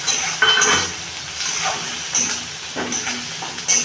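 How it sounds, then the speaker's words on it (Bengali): Chopped capsicum and whole onion frying in a pan for a spicy Bengali egg masala curry, a steady sizzle with a few brief spatula scrapes and pan clinks, fairly close. "ক্যাপসিকাম কুচি দিচ্ছি, একটু ভালো করে ভেজে নেবো"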